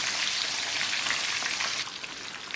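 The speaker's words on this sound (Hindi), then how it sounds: "चिकन को फ्राई करते हुए तकरीबन मुझे 5 से 7 मिनट हो चुके हैं।" Chicken pieces for a KFC-style zinger burger fry in oil over a medium flame, giving a steady, dense sizzle and crackle throughout that drops slightly in level near the end, with no talking.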